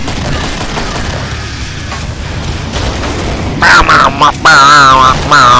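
Booming explosions and bursts of gunfire fill a chaotic video game firefight, dense rumbling blasts throughout, with shouting voices over the action near the end.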